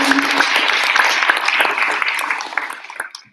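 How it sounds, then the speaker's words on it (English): An audience at a graduate reception applauds, a loud burst of clapping and cheering voices that swells briefly and then tapers off toward silence. "let's give a round of applause for Jane."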